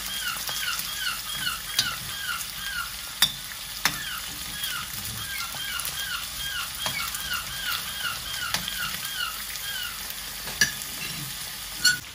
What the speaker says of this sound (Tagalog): Pinagsabay ko na yung carrots and potato. Padaanin lang natin sa mantika.